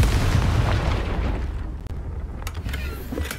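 A fiery spell explosion in the video game Hogwarts Legacy, a loud rumbling boom that roars at the start and slowly decays, followed by a few faint crackling pops.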